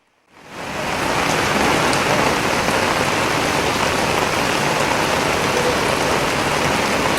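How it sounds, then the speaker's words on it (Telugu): Heavy rain pouring in Hyderabad, a dense, constant roar of downpour that swells in within the first second and then holds loud and steady, with no voices. "హైదరాబాద్లో భారీ వర్షం కురుస్తుంది."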